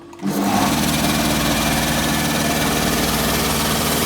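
A Dnipro-M air compressor with a 100-litre receiver kicks on abruptly and settles into a loud, steady, rapid mechanical drone with a fast rhythmic pulse, running alone without pause.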